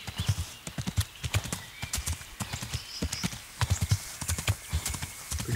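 Horse hooves clip-clop in a steady rhythmic trot with an occasional whinny in Kingdom Come Deliverance, loud and close without talk over it.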